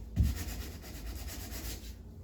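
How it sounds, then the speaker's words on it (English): A small spot lightly sanded smooth by hand before painting gives a faint, steady scratchy rubbing that runs for about two seconds, with a slightly stronger stroke at the start. "Just lightly sand it."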